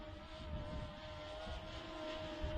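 A small camera drone (Faith 2 with 3-axis gimbal) strains against a breeze on a windy day, its steady motor whine droning continuously at middling distance amid broadband wind rush.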